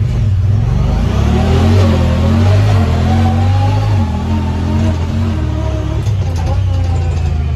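A Honda Pioneer 1000-6 utility vehicle accelerates loudly and close, its engine note climbing steadily through several shifts across the whole stretch, with a voice talking briefly over the engine.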